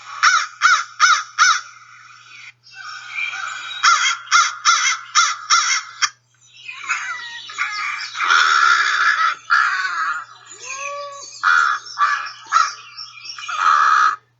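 An American crow gives repeated loud, harsh caws in close range, short bursts in rhythmic series followed by varied throaty calls, with no talking.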